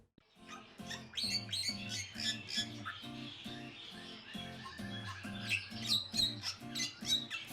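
Bali starlings at a captive breeding house give loud, dense, overlapping squawks and chirps that repeat rhythmically and continuously throughout, close and busy with no voices.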